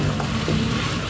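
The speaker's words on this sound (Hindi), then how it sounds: "इसे अब हम कीमे के साथ अच्छी तरीके से मिक्स कर लेंगे" Chopped capsicum stirred into minced beef in a hot pan gives a steady, close sizzle and soft scraping throughout the brief moment, with no voices.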